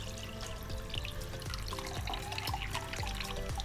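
Water is poured over a dog's face and mouth during a bath at home, a steady splashing trickle with repeated pouring surges, close by and without speech.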